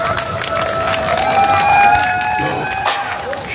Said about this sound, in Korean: 그럼 다 같이 박수 주세요.